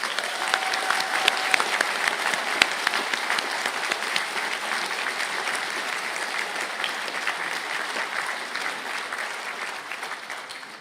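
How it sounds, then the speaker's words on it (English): Steady applause fills a graduation conferring ceremony at ATU Galway, a dense, even patter of many hands clapping for the whole stretch and slowly fading toward the end. "to be upstanding for a well-deserved round of applause"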